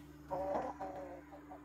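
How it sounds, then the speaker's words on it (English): A young rooster on a Georgia homestead gives a short run of soft, close clucks that lasts about a second over steady low background hum. "He's one of the baby roosters."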